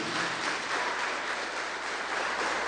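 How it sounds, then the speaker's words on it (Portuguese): Congregation at a family church service applauding, a steady, dense wash of many hands clapping at even loudness throughout, with no voices standing out. "Dê uma salva de palmas para o Senhor Jesus"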